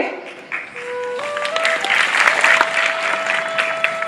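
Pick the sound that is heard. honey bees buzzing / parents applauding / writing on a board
parents applauding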